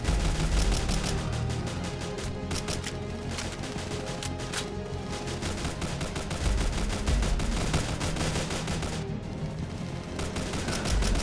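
Rapid gunfire fills a Roblox The Breakout zombie base defense, dense bursts of automatic shots firing almost without pause, loud and close throughout, with brief gaps before the firing resumes.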